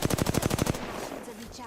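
Rapid automatic gunfire from a weapon in the video game Apex Legends, a fast burst of about nine evenly spaced shots lasting under a second, loud and close, then a low rumble of game ambience.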